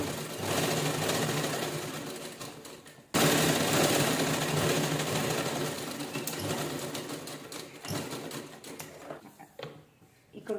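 A sewing machine stitches a pentagon-patterned blouse in a steady, continuous whir that runs loud and close throughout, with a brief pause near the start and a few clicks and handling noises near the end.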